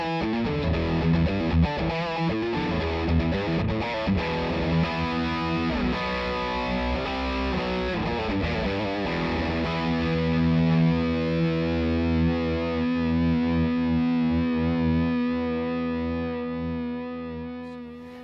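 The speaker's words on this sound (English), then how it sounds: "rock is for classic high gain tones" Heavily distorted, high-gain electric guitar through the rock setting of a VOX MV50 amplifier, sustained chords and riffs ringing loud and continuous with no talking.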